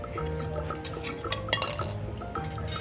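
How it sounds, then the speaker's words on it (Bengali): A toy kadai full of popcorn on a miniature play kitchen clinks as its small metal lid is lifted, with light rattles and scrapes of cookware close by and no talking. "এবার আমি তুলব ঢাকনাটা"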